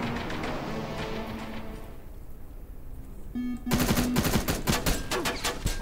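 A plasma turret in Terminator Resistance fires in a warehouse, rapid loud repeated shots at first, then a short lull, then fast, heavy, closer bursts of firing.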